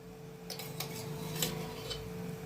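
A metal spoon clinks several times against a pan while homemade ghee goes in for a cornflour halwa, giving sharp, quiet taps over a low steady background hum.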